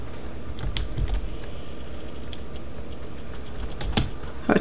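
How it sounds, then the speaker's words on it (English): A typewriter clattering in the adventure game Oxenfree: a steady stream of quick key clicks and taps over a dull, muffled room background, running without pause for several seconds with no voices. "Oh, a typewriter."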